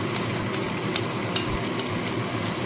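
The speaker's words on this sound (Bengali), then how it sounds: "সেই টক দইটা দিয়ে দিচ্ছি" Three to four spoons of whisked sour yogurt go into hot masala in a pan for an egg and potato curry, setting off a loud, continuous close sizzle with a few faint taps throughout.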